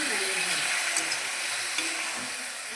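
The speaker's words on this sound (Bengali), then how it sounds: "সবজিটা দিয়ে আমি ভালোভাবে নেড়ে চেড়ে নিচ্ছি।" Vegetables with garlic fry in a hot pan with a dense, constant sizzle and light scraping as they are stirred, close and alone.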